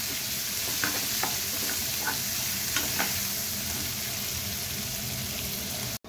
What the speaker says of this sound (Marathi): आता एक मोठा बारीक चिरलेला कांदा घातलाय, तोही आपण मऊ होईपर्यंत परतवून घेऊया।